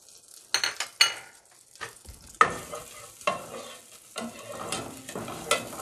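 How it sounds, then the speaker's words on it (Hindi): Chopped garlic sizzles and crackles in hot butter in a pan with a few stirs and utensil scrapes, steady and close, no voices. "1 टेबलस्पून मक्खन गरम कर लिया है, अब हम इसमें चॉप लहसुन डालेंगे।"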